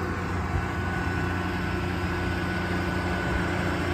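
A 2013 Ram 5500 crane service truck with a Cummins diesel runs at a raised idle, giving a steady low, even rumble with no voices.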